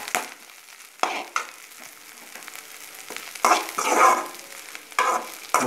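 Drumstick flowers fry in oil for a poriyal while a spoon stirs them, scraping and clattering in bursts over a soft, continuous sizzle close by.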